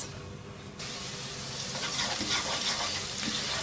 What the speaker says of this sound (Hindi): तो इतनी देर प्याज को पकाना है कि ये थोड़ा सा नरम पड़ जाए।